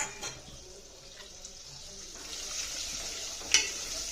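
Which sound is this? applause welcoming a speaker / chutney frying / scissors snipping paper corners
chutney frying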